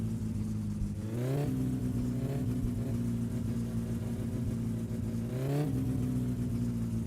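Car engine in the game My Summer Car revving hard, loud and close, with two sharp climbs in pitch that settle into a sustained high-revving drone, no talking.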